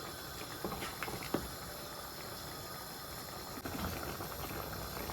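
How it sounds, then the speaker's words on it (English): A pot of Nigerian oha soup bubbles at a steady boil, with a continuous dense bubbling and popping texture and a few small louder pops, no talking. "So it's boiling."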